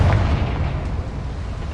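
A Confringo blasting spell goes off in one loud, close, deep explosive boom that rumbles and slowly fades over a couple of seconds, heard alone without any voices.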